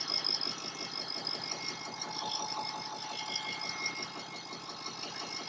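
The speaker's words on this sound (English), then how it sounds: "I had the engine running for maybe about 10 minutes now" A diesel engine idles steadily in a Class A motorhome, a Monaco Windsor, giving a continuous even rumble with a faint rhythmic ticking, heard from close by with no talk.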